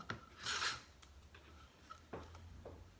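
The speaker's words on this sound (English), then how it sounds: "You're just rubbing the chalk paste and then picking up the extra across the silk screen." Chalk paste rubbed across a silk screen stencil over a chalkboard sign, a few quiet scraping strokes with soft taps and pauses between them.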